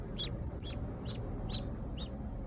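Poultry at a local duck store give five short, evenly spaced calls at close range, each a brief squawk over steady background noise, with no voices.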